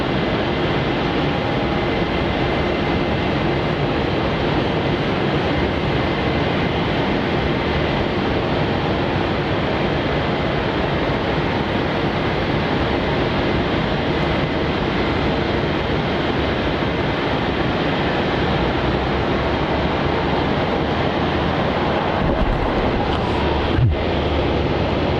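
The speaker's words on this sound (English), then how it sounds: "We've got a runway 27 departure. It's JQ 733 heading off to Launceston." A Jetstar airliner, flight JQ 733 to Launceston, taking off from runway 27 at Melbourne Airport, a constant broad distant engine roar holding steady throughout, mixed with wind noise on the microphone.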